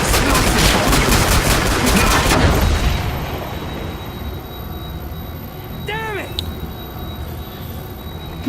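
Carbine gunfire in the video game Killing Floor 2, a dense loud rattling burst of shots over the first three seconds, then a quieter rumbling game ambience with a brief ringing, whooping effect.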